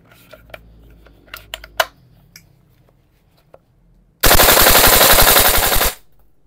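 A VFC airsoft gun fires a dense full-auto burst of about two seconds with heavy, rattling blowback, loud and close, following a few scattered handling clicks and taps.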